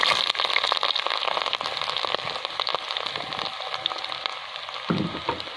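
Steady crackling sizzle of chopped garlic frying in hot oil for a red snapper fish curry, continuous and close, with a brief low clatter near the end.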